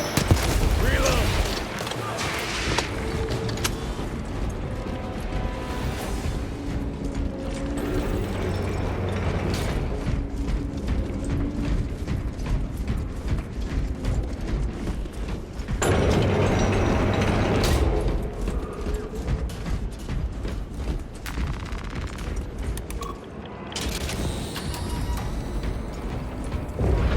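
Heavy cargo elevator platform machinery in Warhammer 40,000: Space Marine 2, grinding and clanking with ratcheting gear noise in a steady loud rumble, with bursts of combat noise and voices speaking over it.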